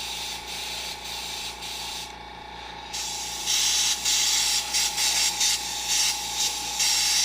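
Airbrush spraying opaque orange paint gives a steady airy hiss that swells louder in bursts toward the end, with a faint mechanical hum running underneath.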